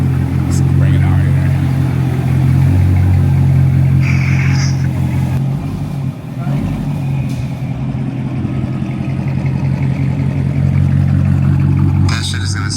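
A straight-piped Dodge Charger R/T runs loud and steady with a deep, rough exhaust drone, rising and dipping in short revs, with a voice talking briefly over it.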